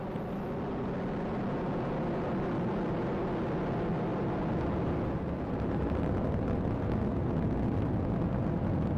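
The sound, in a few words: rocket engines roaring during launch ascent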